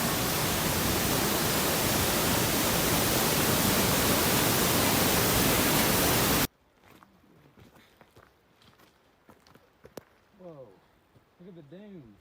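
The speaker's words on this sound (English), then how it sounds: "don't know if you can hear me because of the wind" Strong wind blasts a microphone high in the Colorado mountains near sand dunes, a loud, steady roar for about six seconds, then cuts to quieter outdoor sound where a voice talks.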